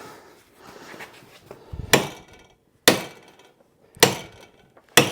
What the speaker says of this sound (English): Now we find our big hammer and hope this works.